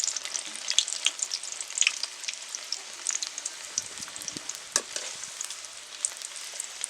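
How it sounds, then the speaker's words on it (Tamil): About ten garlic cloves frying in hot oil, giving a steady close-up sizzle with frequent sharp crackles and pops and a few soft stirring clatters, no voices. "இப்போது பூண்டு ஒரு 10 பல் சேர்த்துக்கோங்க. அதையும் போட்டு நல்லா பொரிச்சு எடுத்துடலாம்."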